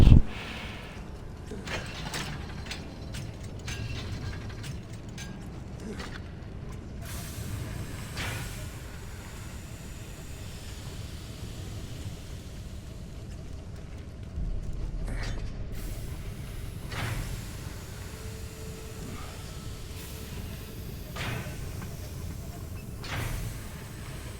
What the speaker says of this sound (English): How do I make this machine explode so it stops pumping out gas?